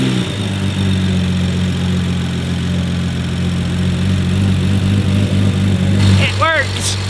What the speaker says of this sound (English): That little ticking you hear is the injectors.